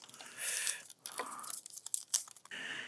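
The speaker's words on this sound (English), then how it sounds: "Just pull back some of these leaves." Leaves are torn and pulled back from a pineapple top with several crisp ripping and crunching sounds. The sounds come close up in uneven bursts, with brief pauses between them, and no one speaks.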